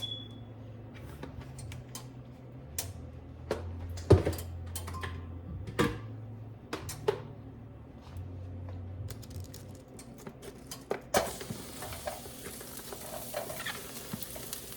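Cabbage tossed into a hot skillet with sesame oil for alkaline fried rice, giving a steady low sizzle with scattered sharp clicks and scrapes of stirring, a brighter hiss swelling near the end.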